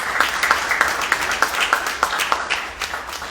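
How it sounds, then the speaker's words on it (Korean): A small conference audience at an academic symposium claps for a presenter, with distinct individual claps in a quick uneven rhythm, fairly close, no talk over it. "박수로 한번 수고하셨습니다"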